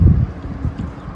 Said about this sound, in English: It does get a little windy up here